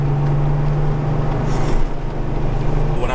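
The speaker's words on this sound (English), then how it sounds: "You just listen to it as it revs. It's very mechanical and very aluminum sounding, like popping and gurgling." A Porsche 993 engine runs close by with a steady, throaty drone that holds almost unchanged, its low hum dipping slightly near the end.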